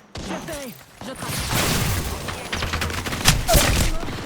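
Gunfire bursts and impacts from the video game Apex Legends crackle in rapid clusters amid explosions and game effects, loud and busy, with players talking over the action.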